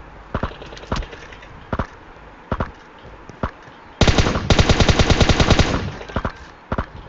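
Gunfire in PUBG Mobile, including a suppressed sniper rifle, comes as sharp single shots spaced about a second apart, then a dense rapid burst of automatic fire lasting under two seconds before single shots resume.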